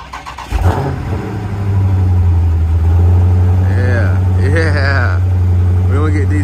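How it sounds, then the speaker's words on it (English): A Dodge Challenger SRT engine cold-starts with a sharp bark, then settles into a loud, steady high idle with a deep rumble close by, while someone talks over it. "Nice little cold start."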